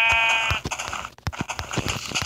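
A Minecraft sheep gives a short, nasal bleat at the start, followed by quick blocky game sounds such as footsteps and clicks.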